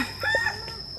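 Short clucking and a brief crowing note from a rooster at a tiger zoo in Ubon Ratchathani, Thailand, moderately close, with a constant high insect drone behind it.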